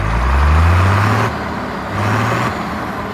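A Farmall 1206 tractor's diesel engine idles close by, with a loud, steady low rumble that falls back slightly partway through and then rises again. No voices are heard.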